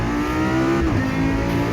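Loud car engine droning steadily through a lap, its pitch holding then dipping briefly as the driver shifts, with no talk over it.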